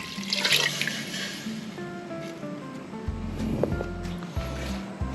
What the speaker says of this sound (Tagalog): So, lagay na natin itong ating unang sabaw. Ito po yung hugas bigas.